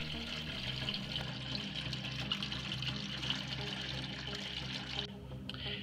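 Water flows steadily through a homemade aquaponics filter for a fish tank during a test run, a continuous close-up gurgle and trickle that shifts slightly near the end.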